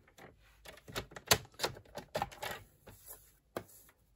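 Cardstock being trimmed straight for a handmade card: a quick run of sharp clicks and short slicing scrapes, close and fairly quiet, with no talking.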